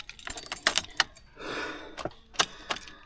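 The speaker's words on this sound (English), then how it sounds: "I got keys. Keys. There they are. There's keys." A bunch of keys, including truck keys, jangles close by in several quick metallic bursts with brief pauses, alone without talk.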